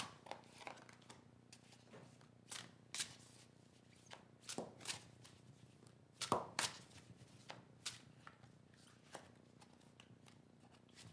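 Tarot cards being dealt one by one into piles for a reading, giving soft papery slaps and quick flicks in an irregular rhythm, close and quiet with no talk.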